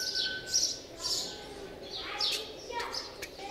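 Several birds chirping and tweeting in short bursts in the morning in Luxor, Egypt, fairly close, with light background ambience and occasional quiet voices.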